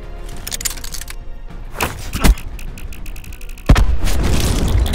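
Cluster grenade bomblets going off in Call of Duty Black Ops 4: loud, sharp blasts burst out amid continuous game noise, with a heavier explosion followed by a sustained rumbling roar.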